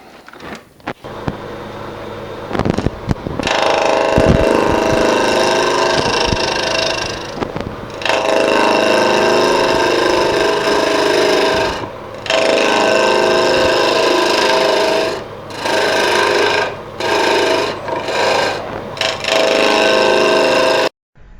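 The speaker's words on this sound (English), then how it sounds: "So I'm going to make my cut straight into the side of the tree, into the side grain." A lathe tool making push cuts straight into the side grain of a green tree section, roughing out wood for a mortar and pestle, gives a loud, steady cutting roar in long bursts, broken by short pauses between passes.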